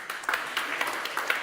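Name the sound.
audience applause at a conference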